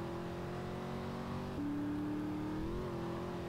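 A car engine in the video game GTA San Andreas drones steadily and close, its pitch dropping briefly as if shifting gear, then climbing again, with no talk over it.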